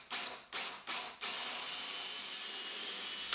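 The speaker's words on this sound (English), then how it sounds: "I'm going to go ahead and drill a hole right here." A power drill bores a hole in wood for a barn door nightstand, starting with three short trigger bursts before settling into one sustained whine, close and loud with no talking.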